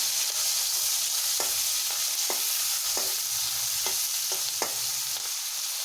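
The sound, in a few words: cassava being stirred and fried in pan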